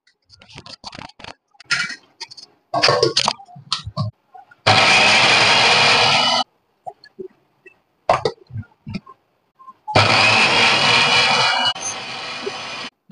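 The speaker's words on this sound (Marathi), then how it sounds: "तर हे आपल्याला आता याचं वाटण म्हणजे मिक्स करून घ्यायचं आहे ह्या मिक्सर मध्ये." A kitchen mixer grinder blends tomato, onion, garlic and ginger into a paste, running loud and close in two steady whirring bursts of a couple of seconds each, separated by quiet handling clatter.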